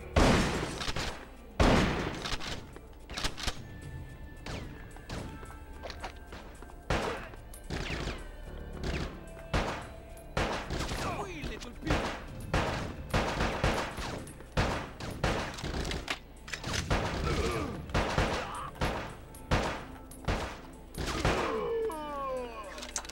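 Rapid gunfire bursts and crashing impacts from the PS2 shooter Bad Boys: Miami Takedown, with loud, dense volleys repeating throughout the whole stretch.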